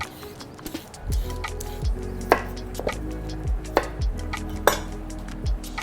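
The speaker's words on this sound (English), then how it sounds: "Just going to peel this carrot." A peeler scrapes along a raw carrot being prepared for coleslaw. It makes a steady series of short strokes, each ending in a soft low knock, close up and with no talk.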